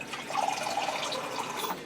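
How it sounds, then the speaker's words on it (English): Water splashes and trickles steadily into a soup pot for ham and green bean soup, a close, continuous pour with small drips and sloshing, no voices. "I think I'm going to add another cup of water to make it 8 cups."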